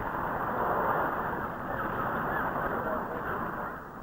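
Gulls call around a fishing trawler at sea, their cries set against a dense, steady roar of engine and water.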